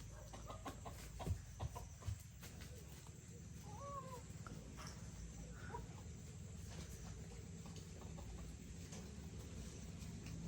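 Chickens clucking at a rural Thai home, a few soft clucks and short calls near the start and middle over a quiet outdoor background, with faint voices now and then.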